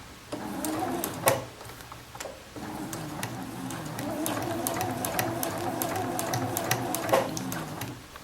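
A home sewing machine stitches shirt fabric while a Sew Along N6620 shirt is being made, its motor whirring steadily with a brief pause near the start, then running continuously at close range without talk.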